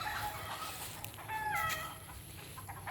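Chickens on a rice farm cluck and squawk as a hen is chased by a rooster, a busy, fairly faint scatter of calls over a steady outdoor hum.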